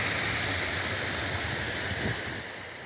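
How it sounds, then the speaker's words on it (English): A small waterfall along a river gives off a steady, broad rushing wash of falling water, continuous and fairly close, easing slightly at the end with no talking. "So we've got a little waterfall."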